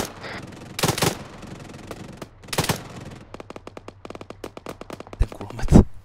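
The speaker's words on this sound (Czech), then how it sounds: "Ten kulomet." Automatic machine gun fire in Arma 3, with short bursts and single cracks in an irregular rhythm, several loud close shots and a rapid run of bursts toward the end.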